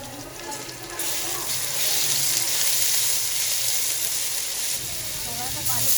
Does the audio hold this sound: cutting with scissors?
no